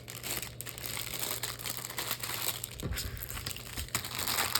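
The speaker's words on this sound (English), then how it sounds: "I'll set this aside and stop crinkling." Close, quiet crinkling of packaging comes in uneven bursts of crumpling and rustling, with no voices.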